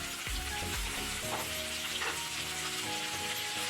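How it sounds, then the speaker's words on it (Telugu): Okra pieces fry in oil in a pan with a steady, close sizzle and crackle. A few stirring knocks sound near the start, and no one speaks. "ముందుగా కట్ చేసి పెట్టుకున్న బెండకాయను ఫ్రై చేసి పెట్టుకోవాలి."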